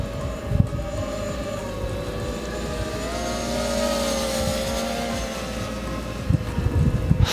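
Small drone hovering outdoors, a continuous tonal propeller whine with slight pitch wobble, fairly loud and steady, with faint wind and handling noise underneath.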